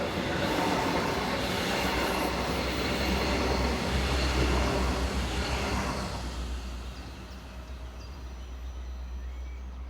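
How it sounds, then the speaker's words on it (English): A chemical freight train rolls past on a European rail route, a loud broadband roar of wagons and rattling wheels that holds steady then fades somewhat as it moves away. "There are a number of chemical trains that run along this route"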